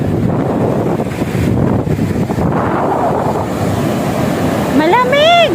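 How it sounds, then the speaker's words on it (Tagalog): Ocean waves and gusting wind on a Da Nang beach at sunset, a steady broad rush of surf and wind buffeting close to the microphone, with a brief rising whistle-like tone near the end. "Taas ng alon."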